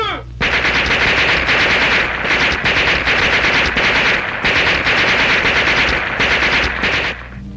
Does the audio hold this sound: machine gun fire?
yes